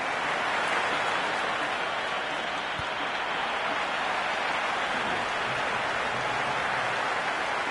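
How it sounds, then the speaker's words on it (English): A stadium crowd in the cricket video game Cricket 26 roars steadily, a dense, loud wash of cheering and applause that holds unbroken throughout. "There's an almost tangible fervour throughout the crowd at the moment."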